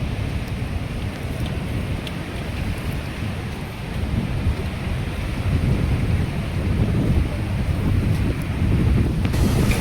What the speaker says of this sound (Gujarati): પવન અત્યારે વધી ગયું છે પવન આવી રહ્યા છે